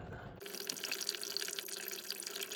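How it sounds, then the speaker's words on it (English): Water drains steadily from the radiator of a Triumph Roadster being restored in a barn, a continuous trickling, splashing flow heard close and fairly quiet, with no talking. "Alright, so we're just draining the radiator again."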